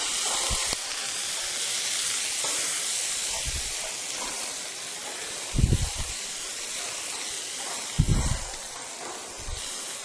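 Water splashed onto a hot stir-fry of vegetables and bok choy (Chinese cabbage) sends up a steady, loud hiss of steam and sizzle, with a few soft knocks and clatters from the pan.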